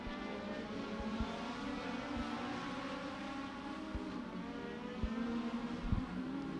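Legend race cars circle Beckley Motor Speedway as a continuous droning engine roar, heard from a distance, with occasional sharp pops and clicks scattered across the steady sound.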